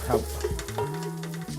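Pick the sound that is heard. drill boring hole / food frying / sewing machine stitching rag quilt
food frying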